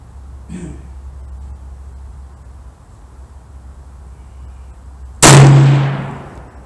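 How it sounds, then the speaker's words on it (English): A single loud, sharp gunshot from a Browning .243 rifle fired at a 100-yard range target, with a ringing tail that decays over about a second after a quiet lead-in. "here goes the first shot at 100 with the Browning 243"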